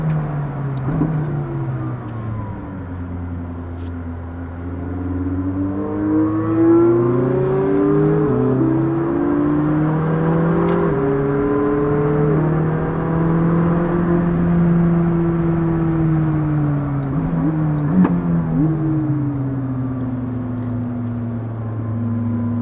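A McLaren sports car engine at a car show, loud and sustained for the whole stretch, rising and falling in pitch as it is revved, with no talk over it.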